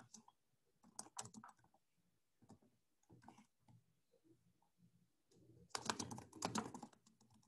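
Quick bursts of key clicks from a computer keyboard sound close and fairly quiet, with short pauses between groups and a longer, denser run of typing near the end.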